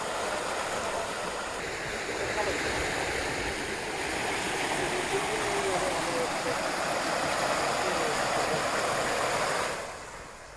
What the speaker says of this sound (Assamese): গহপুৰৰ কৃষ্ণপুৰত ফেনে ফুটুকাৰে বাঢ়িছে পাহাৰীয়া বালিজান নৈ